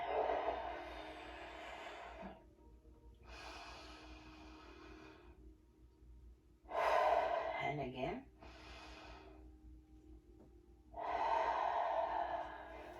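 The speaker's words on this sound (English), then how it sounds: "Inhaling deeply through the nose and out through the mouth." Slow deep breaths, drawn in through the nose and let out through the mouth, during a stretch-and-flex exercise session; several long breath sounds alternate with quiet gaps, fairly close and soft.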